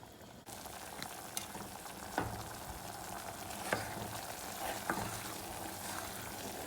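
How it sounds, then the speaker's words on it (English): Seasoning is poured into melted butter for a seafood boil sauce, a close, steady sizzle with occasional stirring scrapes and small pops. "Literally just pour all the seasonings in here."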